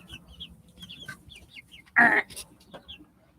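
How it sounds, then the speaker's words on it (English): Six seven-week-old Rhode Island Red chickens in a backyard garden coop make soft, scattered peeps and clucks close by, with one louder squawking burst in the middle. "And I have 6 Rhode Island Reds."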